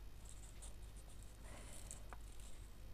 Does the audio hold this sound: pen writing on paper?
yes